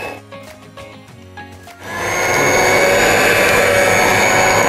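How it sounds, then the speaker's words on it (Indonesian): An electric mixer whirs steadily at low speed through cake batter for a Dalmore cake. A few quiet knocks come first, then the motor starts near the mic and runs loud and even to the end. "Lalu kita mix dengan kecepatan rendah ya. Kita mixer sampai dia tercampur rata."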